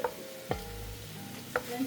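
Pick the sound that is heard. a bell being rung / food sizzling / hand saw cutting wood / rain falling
food sizzling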